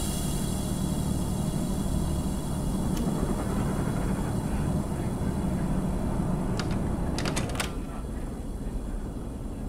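A diesel railcar engine drones under open throttle in the Diesel Railcar Simulator game, a steady low rumble with a constant hiss, plus a few brief sharp clicks near the end.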